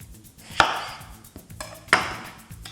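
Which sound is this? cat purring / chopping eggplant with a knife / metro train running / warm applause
chopping eggplant with a knife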